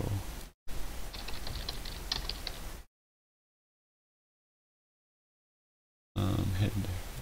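Rapid keystrokes on a computer keyboard, close and fairly quiet, in two bursts separated by a stretch of dead silence, with a voice heard alongside the clicking.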